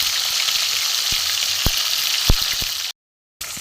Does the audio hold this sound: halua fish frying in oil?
yes